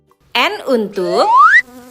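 A cartoon-style mosquito buzz for a children's animal alphabet: a whiny, tonal drone that wavers and then glides upward in pitch for just over a second, heard alone and close.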